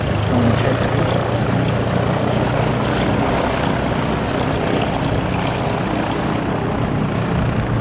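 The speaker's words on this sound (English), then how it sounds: "That's the Skyhawk just in front of us here, just on the taxi." A Cessna Skyhawk propeller plane taxis close by, its engine a steady, loud droning rumble that holds without pause throughout, with no voices.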